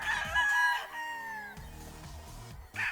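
A Thompson White gamefowl rooster gives one close, clear crow with a rising then trailing call, followed by a few softer clucks and a short final squawk.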